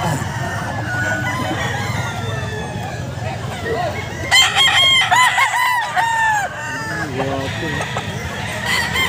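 At a pet market, Boston Roundhead and sweater dome gamefowl roosters crow loudly and close by in several overlapping calls among clucking hens and background market bustle, with people talking underneath.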